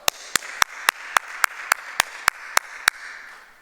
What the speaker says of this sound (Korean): 여러분 있는 처소에서 다시 한번 크게 한번 박수로 후원하십시다.